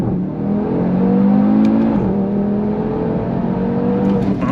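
An Audi TT RS accelerating hard in first gear, the engine revving loudly and climbing steadily in pitch with a brief dip near the middle, heard from close up with almost no talk.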